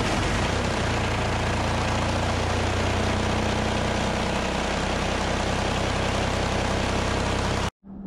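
A Kubota tractor engine runs at a steady, loud, rumbling drone with a rough low-frequency throb, continuing unbroken until it cuts off abruptly just before the end.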